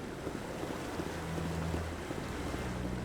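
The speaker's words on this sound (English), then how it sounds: "the water effects are okay" Water and waves from the Mass Effect Legendary Edition game, set on the Citadel, wash steadily as broad, even surf and wind-like noise with a low hum underneath and no voices.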